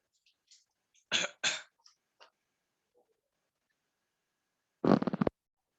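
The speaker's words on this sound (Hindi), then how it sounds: "पता नहीं इतना खांसी क्यों हो गया आज।" Several harsh coughs in quick succession, followed by a pause and then another burst of rough coughing, close and loud in an otherwise quiet room.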